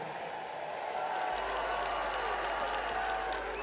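Home crowd at Murrayfield for a Scotland under-18 women's rugby match, applauding and cheering from a distance, a soft steady wash of clapping that swells slightly partway through.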